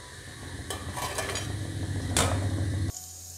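Golden dill and mixed-dal pakoras lifted out of hot frying oil, a soft sizzle with scraping and clinks of a slotted spoon against the pan, then a sudden cut to quiet.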